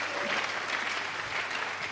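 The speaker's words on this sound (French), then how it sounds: "Il faut m'encourager avec les acclamations." A church congregation breaks into steady, loud applause during a sermon, a continuous wash of clapping hands from a large gathering.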